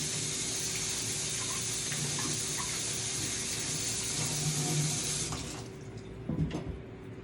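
Tap water runs in a steady, close hiss while Fuji apples from Chile are washed, then cuts off near the end, leaving a few handling knocks.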